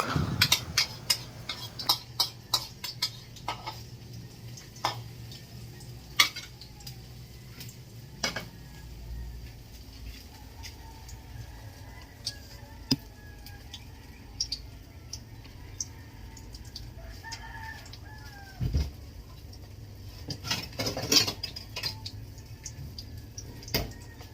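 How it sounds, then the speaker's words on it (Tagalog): Eggs being beaten in a bowl with a utensil before frying in a home kitchen: rapid irregular clinks and taps against the bowl, with dish clatter and faint sizzling in the background, no talking. "nagbabatil na po ako ng itlog, magpiprito na po ako diyan"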